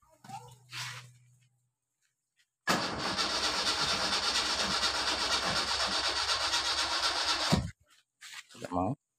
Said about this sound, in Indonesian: Coba saya tambah gasnya.